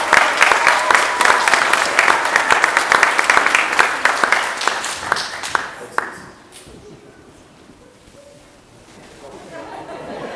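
A crowd at a Cub Scout pack Blue and Gold banquet and crossover ceremony gives a lively round of applause with some chatter, which fades after about six seconds into quiet room noise.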